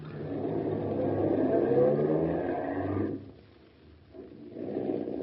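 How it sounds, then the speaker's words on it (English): A car engine hums and revs steadily as a radio drama sound effect, dipping briefly before rising again, moderately loud with no talk. "don't stop the car. Drive quickly."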